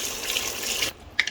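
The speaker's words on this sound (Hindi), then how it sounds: "अब इसके अंदर हम पानी डालेंगे" Water being poured into a pot of white chickpea soup after the chickpeas are sautéed, a steady close splashing rush that stops abruptly, followed by a couple of faint drips and clinks.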